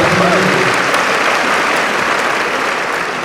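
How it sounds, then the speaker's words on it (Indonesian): A crowd at a transport college graduation ceremony breaks into loud, sustained applause, a thick wash of clapping that holds steady throughout, with faint voices underneath. "tepuk tangan dulu nih"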